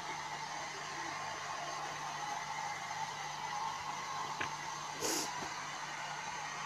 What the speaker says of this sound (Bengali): ড্রায়ার দিয়ে চুলটাকে ড্রাই করছে